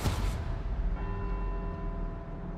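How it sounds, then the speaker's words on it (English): Church bells ring out across Edinburgh in the Forza Horizon 4 racing game, a broad clanging peal with a long, steady ringing hum that carries on alone, no voices. "visit every bell tower in Edinburgh and get back here before they all stop ringing."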